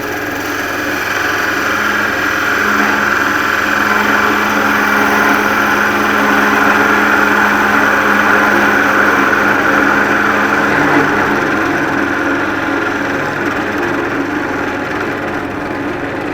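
A skew chisel cuts the end of a wood piece spinning on a lathe, riding the bevel, with a steady loud motor hum and a continuous rough shaving hiss held for the whole stretch, no talk.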